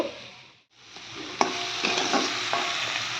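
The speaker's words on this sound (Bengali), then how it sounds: "আমি আর একটু ভালো করে কষিয়ে নেব।" Curry being stir-fried in a pan in a home kitchen, a soft sizzle with scraping spatula strokes and a few clacks against the pan, close and alone, after a brief dip to near silence.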